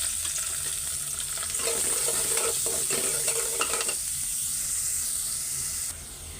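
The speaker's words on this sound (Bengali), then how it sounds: "পেঁয়াজটাকে লাল লাল করে নিয়ে ভাইজা তেলটা গরম হয়ে গেছে" Onions frying in hot oil until browned, a loud continuous sizzle and hiss with scraping stirs in the middle stretch, close up, easing slightly toward the end, with no talking.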